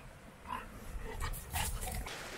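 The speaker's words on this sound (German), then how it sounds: "Wo ist er, der Hundi?" A dog's short barks and yips out in the Scottish countryside near Loch Rusky on an early spring day, a few sharp calls spread over a couple of seconds against steady outdoor background noise.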